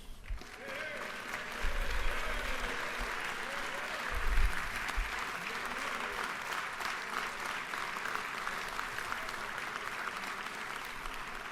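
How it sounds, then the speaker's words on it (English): Applause fills the Georgia House chamber, a broad sustained clapping from many legislators that swells early, with a few louder bumps, then continues evenly to the end. "are all deserving of a round of applause"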